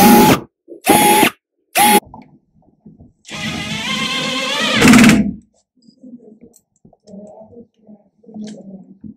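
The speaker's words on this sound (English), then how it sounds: "we're going to just drill a few pilot holes so that our screws go into the wood" A power drill bores pilot holes into a wooden hollow core door for screws: short bursts of whirring up front, then a longer sustained drilling run, followed by quiet handling clunks.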